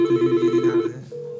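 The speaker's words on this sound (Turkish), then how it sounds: "Diğer telefonda çalıyor." A Karel IP desk phone on another extension rings with a steady electronic trill, close and clear, that stops partway through and gives way to a single steady tone.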